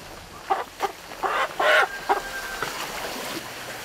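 Chickens cluck nearby on a mountain farm in short, uneven bursts, one call stretching longer, over a quiet background hum.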